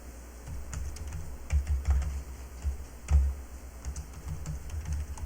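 Ctrl plus shortcut keys pressed on a computer keyboard: a sparse run of light plastic key clicks and taps, close and fairly quiet, with no talking.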